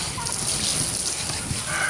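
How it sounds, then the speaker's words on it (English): Running water rinses a completely skinned chicken carcass on a cleaned table, a steady close splashing and trickling stream that continues without a break. "Now you're going to rinse your carcass."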